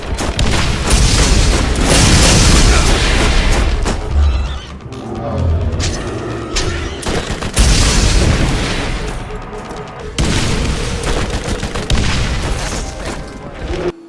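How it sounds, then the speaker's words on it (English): Gunfire from the video game Borderlands roars almost without pause, with heavy booming shots and dense bursts that stay loud and close, briefly easing twice before resuming, and a voice talks over parts of it. "Another is just to wave your gun around firing indiscriminately and hope you hit something."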